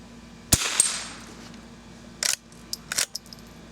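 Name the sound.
shooting vintage Marlin 39A rifle at swinging targets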